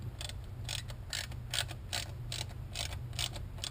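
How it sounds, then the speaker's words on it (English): A ratchet turning a 10mm deep socket tightens throttle body bolts on a 2007 Cadillac Escalade 6.2L V8, clicking in a quick even rhythm of about ten close, crisp pawl clicks with no talking. "Now we're going to take a 10mm deep socket and set this thing to tighten."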